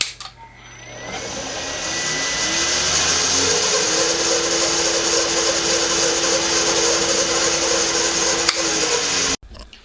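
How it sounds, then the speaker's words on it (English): A steady high-pitched whine of a small drill boring a 3mm hole, running continuously up close, then stopping abruptly at the end. "I'm using a 3mm drill."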